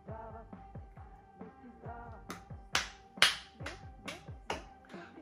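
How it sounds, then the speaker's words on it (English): Crisp, sharp claps punctuate a Eurovision 2022 pop song, landing in a steady rhythm over sung melody and backing music, growing brighter and more prominent toward the second half. "I'm quite liking the claps."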